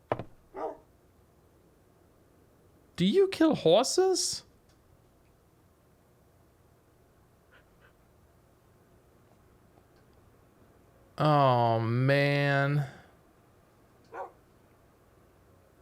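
A dog or wolf in a modded Minecraft world (TerraFirmaCraft) gives two short bursts of barking, with someone talking briefly in between.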